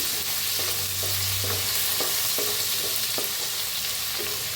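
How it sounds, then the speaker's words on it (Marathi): Crushed chili and garlic with cumin and asafoetida frying in a pan, stirred with a spoon that scrapes now and then over a steady close hiss, a brief low hum near the start. "कुटलेली मिरची आणि लसूण चेचला बारीक असा। छान असं हलवून घेऊया आपण।"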